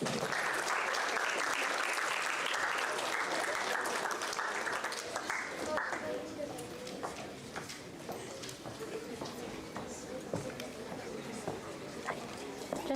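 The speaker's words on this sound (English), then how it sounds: "give a round of applause" A workshop audience gives a round of applause, dense clapping for the first six seconds that thins into scattered claps and room noise.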